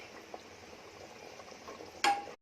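Fresh mutton with ginger and garlic fries dry on a high gas flame. A soft, steady sizzle runs quietly throughout, ending in a sharp metallic clank and a brief ring.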